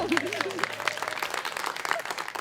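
A studio audience at a folk music competition round claps together in a brief burst of dense applause, close and fairly loud, with some voices mixed in.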